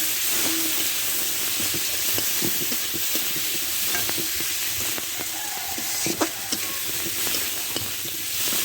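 Dried chilli powder and turmeric fry in a pan for a village-style egg curry, a steady close sizzle with repeated scraping and stirring strokes of a spatula throughout, no voices.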